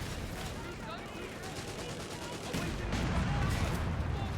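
Company of Heroes 3 battle sounds with an anti-tank gun and dense rattling rifle and machine-gun fire crackling continuously, heavier blasts thickening toward the end, with game voices mixed in.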